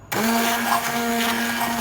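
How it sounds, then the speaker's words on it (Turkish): A blender purees cooked strawberries that were simmered with sugar, giving a loud, steady, close-up whir that starts abruptly and holds unbroken to the end. "Şimdi blenderdan geçirelim."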